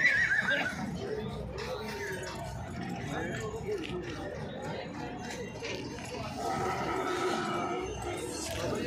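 A mare whinnies at a rural fair where farmers show horses, her call rising briefly near the start amid a busy crowd, with people talking over the steady background murmur.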